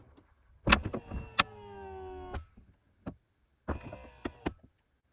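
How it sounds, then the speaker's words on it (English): The boot of a Mercedes R230 SL55 slams shut with a sharp thud, then a whirring mechanism and a series of clicks and beeps as the car locks. "I'm going to close the boot of the car and then lock the car"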